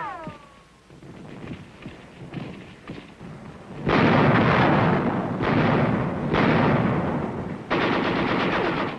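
Heavy artillery and gunfire in a combat engagement, several loud sustained bursts that start abruptly and stop, coming in quick succession after a quieter opening with scattered pops.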